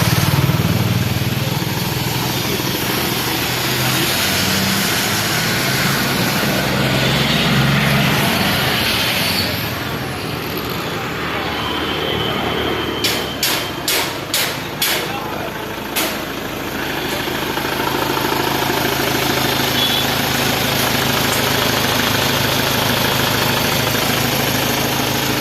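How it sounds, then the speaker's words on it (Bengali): Mahindra Scorpio engine running during a carbon decarbonizing detox, a steady loud idle drone with a brief burst of sharp rhythmic ticks partway through, recorded close in a workshop. "ডিকার্বনাইজিং ইঞ্জিন ডিটক্স করা হচ্ছে।"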